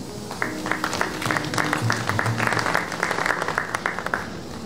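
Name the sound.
audience applause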